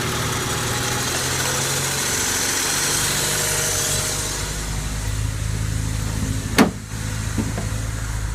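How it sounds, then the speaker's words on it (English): A car that would not start, now repaired with a new distributor after a bad coil, idles steadily and loudly up close, with a brief knock or clunk near the end and no talk. "Car runs now."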